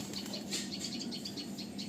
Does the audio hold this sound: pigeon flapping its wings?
yes